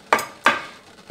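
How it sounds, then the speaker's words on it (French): Onions tipped into cold oil in a frying pan land in two soft broadband rustling bursts, then fade, with a third starting at the end; no speech. "on rajoute directement nos oignons"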